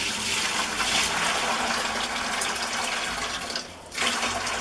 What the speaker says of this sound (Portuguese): Você vai colocar uma aguinha morninha.